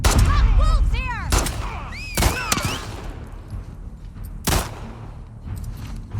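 Gunshots in the video game The Last of Us Part II, several sharp loud reports in quick succession amid whooshing game effects, then a final isolated shot against a busy background.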